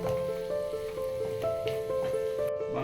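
Drumstick pods going into potatoes already frying in oil in a pan, giving a steady, close hiss of sizzling throughout with faint tonal ringing behind it and no voices.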